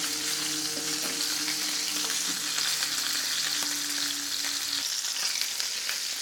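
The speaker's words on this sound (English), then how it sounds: "I'm going to go ahead and start basting this" A NY strip steak sizzles in a cast-iron skillet while being basted with unsalted butter, an unbroken, close crackle and hiss with scattered spoon-scrape clicks and a low hum that cuts out near the end, with no speech.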